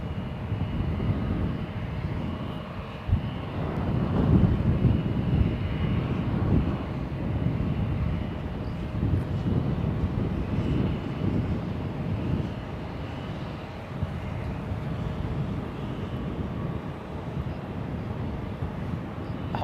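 Airbus A321neo pushing back from a gate in a flight simulator game, a steady low engine rumble with broadband wind-like hiss that swells slightly early on and holds evenly throughout, no talk.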